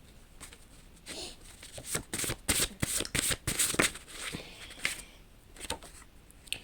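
Tarot cards are shuffled during a card reading in a series of close, crisp riffling bursts that build in the middle and then taper to lighter flicks, with no one speaking.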